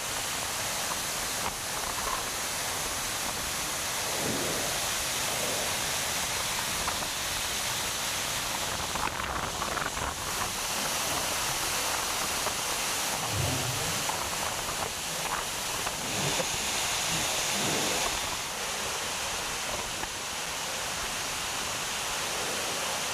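Heavy southwest monsoon rain falls in Tamil Nadu's hill districts as a constant, dense hiss of downpour. It carries on evenly for over twenty seconds with no voices.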